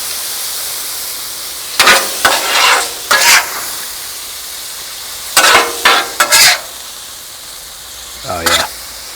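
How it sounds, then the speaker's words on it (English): Fajita filling cooks on a Blackstone griddle with a soft background sizzle. Several loud bursts of scraping and stirring come in clusters, with short pauses between them. "I want to let it cook, but I want to mix it up to let everything cook evenly."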